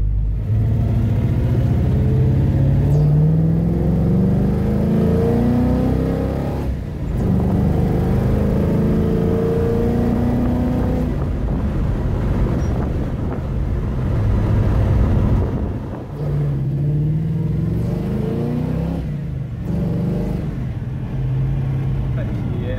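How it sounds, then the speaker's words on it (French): A 1970 Pontiac GTO with fuel injection and Wilwood brakes rumbles loudly and continuously from inside the car, its engine note rising and falling as it accelerates while someone talks. "On entend l'injection aussi."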